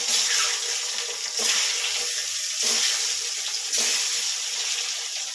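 Boiled eggs frying gently in a pan over low heat give a steady close hiss that swells in a few soft waves, with no voices.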